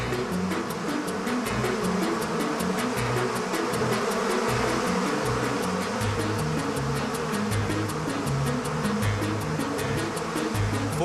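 A dense swarm of 40,000 killer bees buzzes loudly and steadily around a man wearing them, a continuous thick drone with no talking over it.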